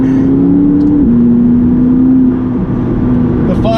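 A McLaren 570GT sports car drives a twisty Gloucestershire country road, its engine a loud steady drone heard from inside the car, the pitch dipping and climbing slightly as it shifts and pulls.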